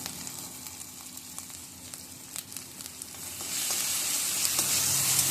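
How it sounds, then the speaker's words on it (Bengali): A spice paste with turmeric fries in a pan while a drumstick flower curry is being made. Scattered stirring scrapes sound over a steady close sizzle, which grows noticeably louder partway through. "হলুদটা দিয়ে মশলাটা ভালো করে আমি ভেজে নিচ্ছি"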